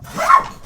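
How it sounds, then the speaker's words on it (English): A single short, muffled dog bark, fairly soft and somewhat distant, with nothing else around it. "That's my dog."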